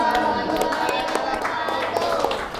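An audience at a classroom group presentation applauds, a short burst of scattered hand clapping with voices mixed in, moderately loud and steady before tapering slightly.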